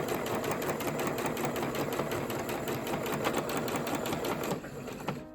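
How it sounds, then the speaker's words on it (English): Flying geese blocks for a quilted placemat run through a sewing machine, a continuous fast mechanical whirr with rhythmic needle ticking, close and steady until it stops abruptly near the end. "Okay, so I've finished doing my sewing."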